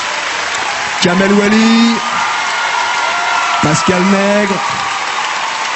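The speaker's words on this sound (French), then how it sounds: "une salve d'applaudissements également pour le corps professoral de la Starac au grand complet" Studio audience applause at a French televised talent show, a steady wash of clapping running throughout beneath a presenter's voice announcing names over it.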